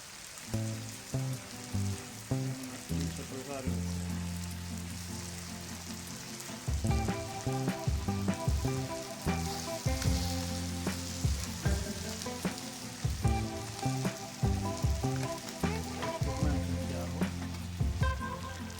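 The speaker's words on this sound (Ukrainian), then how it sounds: "Наша рибка підсмажується." Carp fries in sour cream on a harrow disc, a steady dense sizzle and crackle that stays loud and close throughout, with frequent popping and spitting.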